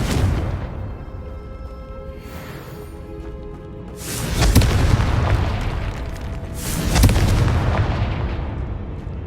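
Two booming fiery blasts from the Confringo spell in Hogwarts Legacy land a few seconds apart, each a sharp loud burst trailing into a rumbling decay, over quieter ambient game sound.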